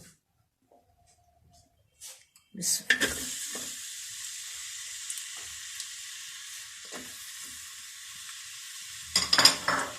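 Onions hit hot oil in a pot for kabuli pulao, bursting into a loud sizzle after a few quiet seconds and frying steadily, with a clatter of stirring near the end.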